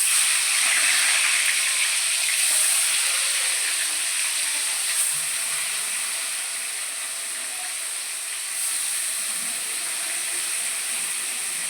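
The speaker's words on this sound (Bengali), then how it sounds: "নুন হলুদ মেখে রাখা মাছটা এবার ভেজে নেব।" Fish coated with salt and turmeric frying in hot oil in a home kitchen, a continuous bright hissing sizzle that slowly softens, heard close with no talking.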